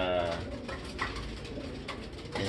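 A racing pigeon hen cooing up close, soft throaty coos repeating over a couple of seconds with light rustling around them.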